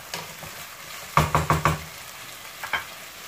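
Chopped onions sautéing in a pan while being stirred and pressed, with a quick burst of four rhythmic scraping knocks mid-way and two softer ones later, over a low steady sizzle, no talking.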